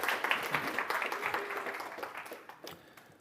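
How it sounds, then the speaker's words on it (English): Moderate applause from a conference audience at DConf '22, a burst of clapping that gradually fades over a few seconds. "So round of applause and take it away."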